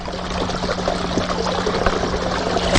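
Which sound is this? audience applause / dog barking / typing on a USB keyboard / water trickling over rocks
water trickling over rocks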